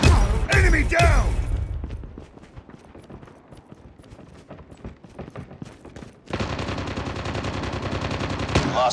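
Gunfire in the mobile shooter game Call of Duty: Mobile, opening with loud rapid bursts, thinning to scattered sharp cracks, then swelling into dense sustained firing near the end.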